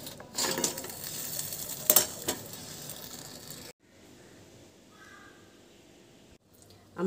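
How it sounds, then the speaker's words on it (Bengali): Jalebi frying in hot oil sizzles, with utensil scrapes and clinks against the pan as they are stirred to crisp, loud at first, then softer and quieter before a final clatter. "তাই আমি মুচমুচে করে ভাজবো।"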